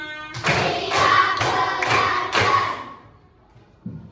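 Five evenly spaced group claps from a primary school class, struck in a counted rhythm with chanting voices, then a quiet pause with a faint knock near the end.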